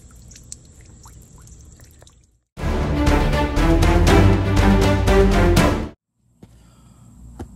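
Water leaking from an RV's black tank gushes out in a loud, splashing burst of about three and a half seconds, framed by near-silence before and after.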